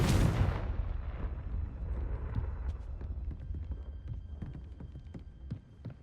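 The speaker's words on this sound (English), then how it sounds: "Confringo" The Confringo fire spell cast in Hogwarts Legacy, a loud fiery blast at the start that decays into a rumbling tail with scattered light crackles and thuds.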